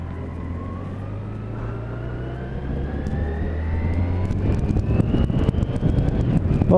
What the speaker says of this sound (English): Oh, there's a helicopter right there.